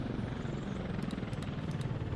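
Helicopter in the city-building game Workers & Resources, a steady rotor and engine drone running evenly and fairly loud throughout, with no speech.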